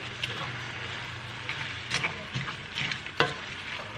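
Meat and quinoa for a taco skillet are stirred in a pan, with soft scraping strokes over a low sizzle and a few sharper utensil clinks against the pan.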